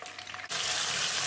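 A soft background hiss gives way abruptly to a loud, steady sizzle as garlic drops into hot oil and keeps frying.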